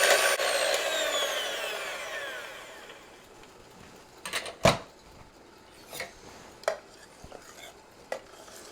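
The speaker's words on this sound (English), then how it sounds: "when it starts lumping up like that, I just take my hand mixer and I mix it all up where it'll be real smooth" An electric hand mixer whirs loudly in thickening banana pudding, fading over a few seconds, followed by a handful of separate knocks and scrapes against the bowl.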